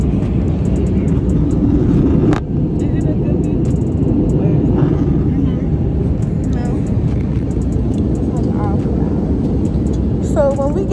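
Steady low roar of an airliner cabin in flight, constant engine and air noise throughout, with people talking faintly over it at moments.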